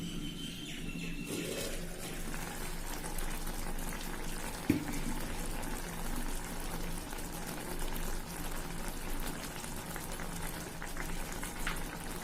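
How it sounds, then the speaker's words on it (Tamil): A covered pan of anchovy peera simmers on a stove with a steady, soft bubbling and hissing that runs throughout, quiet and close, with one small clink partway through. "அடுப்பு பத்த வச்சுட்டு இப்ப மூடிக்கலாம். மீன் வேகட்டும்."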